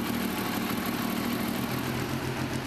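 A 2006 Benelli TnT 1130 motorcycle engine idles while warming up during servicing, a steady, close, even rumble with a slight pulsing throb and no talk.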